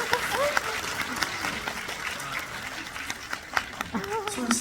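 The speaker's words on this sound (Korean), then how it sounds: "여러분 박수 한 번만 주세요." Audience applause at a film screening Q&A, a steady crowd clapping throughout with a few voices and cheers mixed in.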